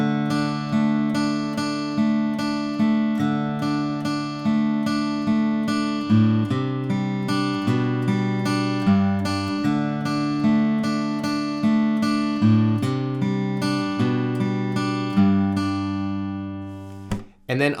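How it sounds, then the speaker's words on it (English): Close, clean guitar plays the post-solo section of a song, a steady stream of picked chords and arpeggiated notes with regular attacks and ringing sustain, shifting through several chord changes, unaccompanied. "So the guitar after the solo sounds like this."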